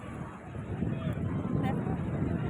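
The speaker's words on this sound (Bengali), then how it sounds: "এ বাবারে, কি জলের আওয়াজ!" Loud, broad rushing of water close by, heard from near a ship, a constant churning roar that swells slightly and fills the whole moment, with a little wind buffeting the microphone.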